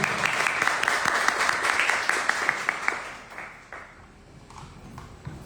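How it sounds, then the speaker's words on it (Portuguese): An event audience applauds Lucas with dense, steady clapping from many hands that thins out and fades after about four seconds, with a few scattered claps lingering. "Uma salva de palmas para o Lucas"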